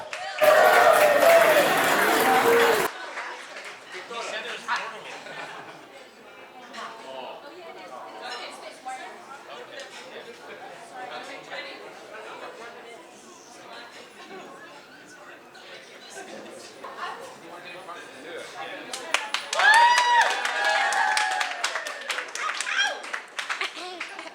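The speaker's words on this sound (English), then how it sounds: "Round of applause for Wilda." Wedding guests burst into applause and cheers, a loud dense clapping at the start that fades into crowd chatter and a lone voice speaking, then a second round of clapping swells near the end.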